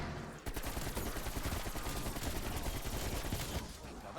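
AK-47 gunfire in the Call of Duty Cold War Zombies video game, a dense rapid burst of automatic shots sustained for several seconds, loud and close with no pauses.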